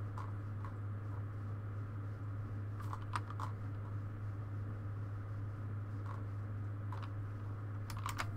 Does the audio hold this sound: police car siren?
no